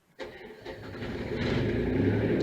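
A diesel generator at a remote lodge in the Marlborough Sounds cranks and fires, then settles into a steady, close, loud running rumble that builds slightly over a couple of seconds, with no talking.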